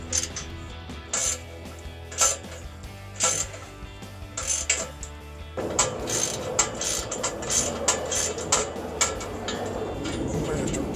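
Hand ratchet snugging bolts while a Ford F-250 MBRP filter-back exhaust system is fitted, giving rhythmic clicking pawl strokes in short bursts, close by, over a low engine-like hum.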